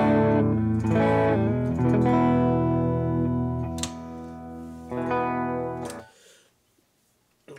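An LTD MH-350FR electric guitar with EMG 81/85 pickups and a Floyd Rose Special plays through a dark-face Fender 65 amp model with a 2x12 cabinet. Strummed chords ring out clean and bright, then stop and decay into near silence.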